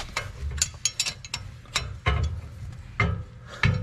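A ratchet wrench clicks in repeated bursts while working on a wheel stud of a 1968 Dodge Charger, its rhythmic pawl ticks close and clear with short pauses between strokes and no talking.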